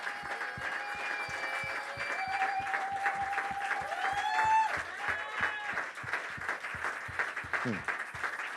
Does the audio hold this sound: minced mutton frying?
no